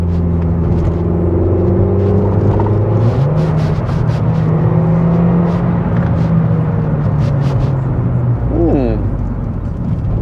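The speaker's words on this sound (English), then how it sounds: "And you could actually hear the intake whooshing." A 2017 Audi A1 S Line Black Edition engine runs steadily with a droning low hum and shifting tones, an intake whoosh rising near the end, continuous and fairly loud throughout.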